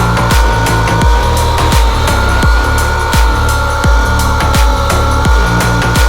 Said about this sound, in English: I'm not letting off the throttle until it pops